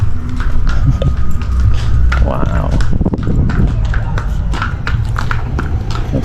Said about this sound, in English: this guy's walking a horse down the street